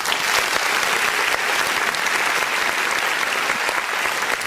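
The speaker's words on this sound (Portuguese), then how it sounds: "Vamos dar uma salva de palmas bem forte para Jesus?" A church congregation applauds loudly and steadily during an online worship service, a dense continuous wash of clapping that fills the whole moment with no voices above it.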